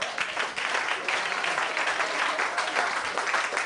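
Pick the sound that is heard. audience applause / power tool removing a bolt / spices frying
audience applause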